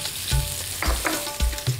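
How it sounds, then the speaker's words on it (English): Sunflower oil heats in a preheated pan, giving a close crackling sizzle broken by a few sharp knocks and scrapes of a utensil against the pan. "Sunflower oil going into a preheated pan"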